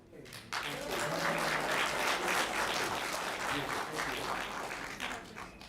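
Audience at a Palm Tran graduation ceremony bursting into steady applause for a graduate, sustained clapping that starts abruptly and holds for several seconds before easing slightly.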